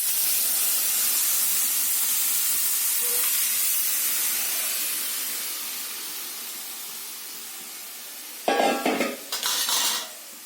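Lentil dal for a vegetarian dish sizzling and steaming in a hot pan, a broad hiss that fades slowly over several seconds, followed near the end by a few sharp clatters of a spoon stirring against the pan.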